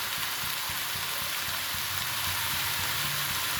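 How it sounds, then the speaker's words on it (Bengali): Mola fish fry in oil over high heat, giving a dense, unbroken sizzling hiss at moderate volume that runs steadily from start to finish with no talk. "মাছ কিন্তু একটু জোরে আজ দিয়ে ভাজতে হবে"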